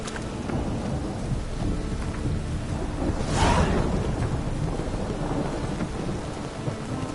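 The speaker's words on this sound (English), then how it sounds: "A storm, damn it." Steady heavy rain falls in a thunderstorm in The Witcher game, with a thunder crack rolling through near the middle and no voices.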